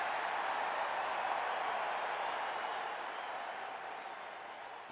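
A crowd cheering and applauding for a viewer on a livestream: a dense, steady wash of clapping that holds for several seconds and slowly fades toward the end.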